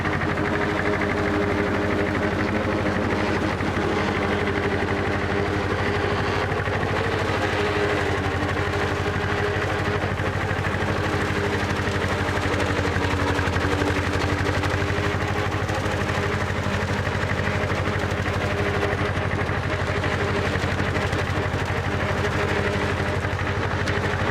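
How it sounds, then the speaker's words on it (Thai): A small grass cutter engine runs steadily and loudly throughout, held at high throttle, a constant drone with no clear revving up or down. "จะโชว์การทำงานแบบเร่งนะครับเร่งเครื่องยนต์"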